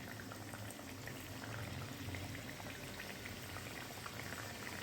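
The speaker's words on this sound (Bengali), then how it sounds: "একটা করে পিঠে দিয়ে দেবো প্রথমে এগুলো তেলের মধ্যে থাকবে তারপরে ভেসে উঠে আসবে" Palm-fruit pithe dumplings deep-fry in a pan of oil, a continuous dense bubbling and fizzing that stays even and moderately close throughout, with no voices.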